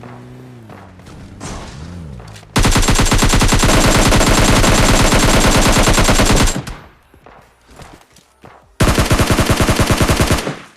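Automatic gunfire in the mobile shooter PUBG Lite rattles in two long, loud, rapid bursts, separated by a short gap with scattered thuds and quieter game sounds.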